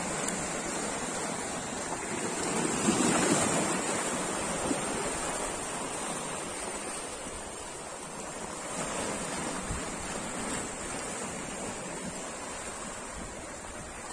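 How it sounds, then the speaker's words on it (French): Ocean waves roll in a steady, broad wash of surf that swells and eases without any clear break, with a faint wind-like hiss over it and no voices. "toujours le roulis des vagues."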